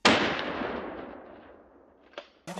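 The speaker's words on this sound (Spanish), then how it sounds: "con dos tiros nos hemos hecho con él" A loud gunshot cracks at the start and its long echo rolls away across hunting country in the vineyards during a wild boar drive, then two sharper reports follow near the end.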